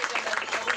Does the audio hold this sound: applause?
yes